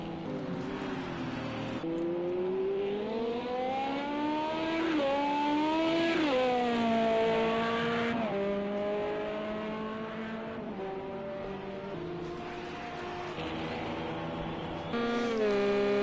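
LMP1 prototype race cars at Silverstone in the World Endurance Championship, engines screaming as they rise and fall through gear changes, one car passing close with a long whining pitch sweep, steady and loud.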